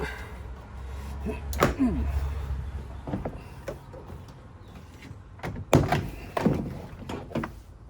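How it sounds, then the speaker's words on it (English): Plastic pop clips on a Chevy Express or GMC Savana front door panel snap loose with a few sharp pops and thunks, separated by pauses and faint rustling, close by. "So all that noise are these little clips, these pop clips right here."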